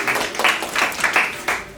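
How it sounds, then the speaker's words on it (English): An audience at a Monday night panel event breaks into loud, close applause, a dense burst of many hands clapping that rises and falls in waves. "give yourselves another round of applause for making it out on this Monday night"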